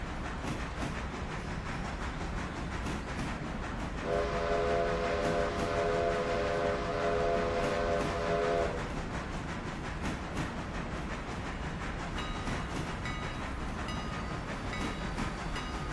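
A train rolls steadily along the line in a railroad simulator game, with a loud whistle blown once for several seconds midway through the rumble.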